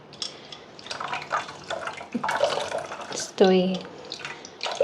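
Towels dipped into and wrung out of warm water during a chocolate therapy massage, giving soft splashes and trickling drips in short bursts, with someone speaking quietly over them.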